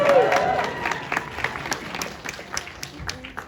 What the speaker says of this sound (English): that applause was extra thick!